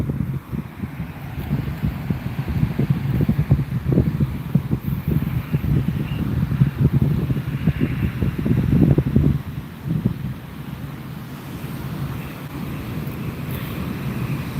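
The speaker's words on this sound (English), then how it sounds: "Very windy." Strong wind buffets a campsite near a tree, a loud continuous low roar with gusts that swell and ease, close-up rumbling against the microphone and no talk.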